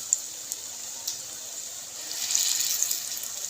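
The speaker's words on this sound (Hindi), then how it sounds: "मीडियम आंच पे इसको हम फ्राई करेंगे।" Potato and onion paste pakoras fry in oil over medium heat, giving a soft, steady sizzle with faint crackles and pops, close by and with no voices.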